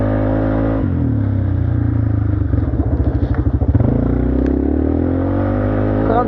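A 200cc quad engine drones loudly up close, dropping in pitch and stuttering with a rapid pulsing chatter as the wheels skid, then settling back to a steady idle.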